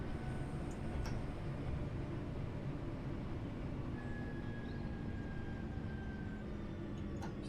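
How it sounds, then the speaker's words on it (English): A British commuter train on the Glossop Line in Train Sim World 3 speeds along an open section, giving a steady, loud low rumble with faint whining tones. The sound is continuous and carries no talk. "it's quite exciting to have a bit of speed in this train. It's quite fun to fly along the open sections."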